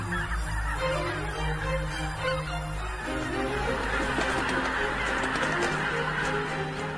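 A flock of geese in the Biebrza valley honks continuously, many overlapping calls forming a dense, noisy chorus at moderate distance.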